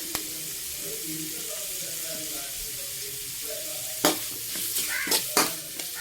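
Sliced onions fry with a pinch of salt in a pan, a constant soft sizzle in the background. Sharper stirring scrapes come in near the end, with faint voices or tones underneath at first.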